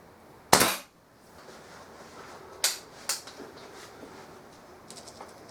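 A Kral NP02 air rifle fired freehand outdoors on a windy day gives a single sharp crack, followed later by a few fainter clicks and ticks of the action against quiet wind noise.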